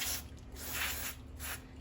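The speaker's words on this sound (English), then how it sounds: "I'll spray the gun cleaner through there as well, and it will come out." Gun cleaner sprays through an HVLP spray gun in three close, loud hissing bursts, each rising and falling, with short pauses between them.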